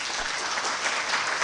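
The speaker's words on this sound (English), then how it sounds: "Clap for her, please." A brief burst of audience applause at a formal gathering, a thick, even wash of many hands clapping together, fairly close and steady for the whole moment.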